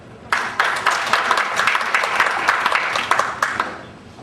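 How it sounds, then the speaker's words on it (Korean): A conference audience at the Jeju Forum claps for panelists being introduced. The applause starts abruptly, stays full with crisp, distinct hand claps, then thins out toward the end. "박수 한번 주시면"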